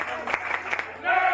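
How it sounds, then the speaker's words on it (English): Wrestling crowd at a championship match cheering and applauding, a dense wash of noise that swells near the end, with an announcer talking over it. "Man, this crowd is absolutely fired up."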